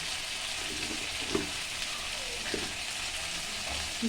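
Pointed gourd sautéing with turmeric and chili powder gives a soft, steady sizzle in a pan, with a few faint stirring scrapes over the continuous frying hiss and no voices.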